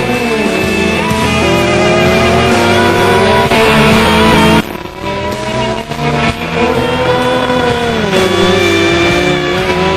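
Several motorcycles ridden by a biker gang doing stunts on a road in Delhi at night, engines loud and close with sustained revving and shifting pitch, a brief dip midway before the roar resumes.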